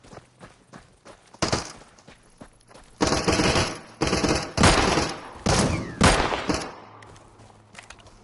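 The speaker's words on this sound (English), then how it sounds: "Somebody's shooting at us." Gunfire in the survival shooter Deadside comes as loud bursts of several sharp shots in quick succession, split by brief pauses, with quieter clicks and footsteps between the volleys.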